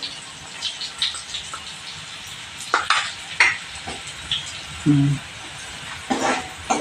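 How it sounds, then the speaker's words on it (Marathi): Garlic sautéing in a pan with turmeric being added, a quiet steady sizzle under a few sharp clinks and scrapes of stirring with a utensil against the pan, no talk. "लसणीचा रंग बदलेपर्यंत आपण परतून घ्यायचं आहे"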